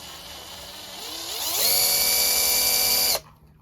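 A SCANS 16V cordless drill fitted with a swivel flex adapter whirs steadily, rising in pitch and speed as the trigger is squeezed, holding a loud high whine, then cutting off abruptly.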